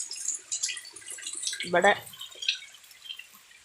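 Rainwater drips and trickles off a house during a downpour, heard as soft splashing and a brief louder gush beneath a person talking nearby.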